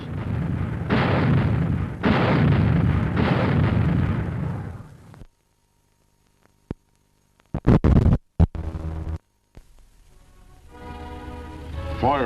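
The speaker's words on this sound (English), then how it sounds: "On practically the push of a button, she can spot attacking aircraft, track it, and automatically aim and fire." Automatic anti-aircraft gun firing shells at about 45 rounds a minute: a loud run of heavy booming blasts, then a quiet gap broken by several sharp, separate bangs and a final rumbling burst.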